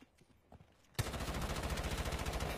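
Rapid automatic gunfire in the Rainbow Six Siege video game erupts after a second of quiet and continues as a loud, sustained burst of closely spaced shots.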